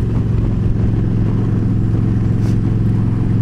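A motorcycle engine drones steadily while riding a twisty road through the Catskills, a loud, close, even hum with constant rumble and wind noise and no change in pace.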